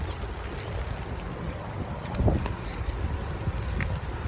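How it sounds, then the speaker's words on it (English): Wind blowing outdoors on a rainy day, a rough rumbling gust buffeting the microphone that swells midway and keeps roaring to the end. "It's windy."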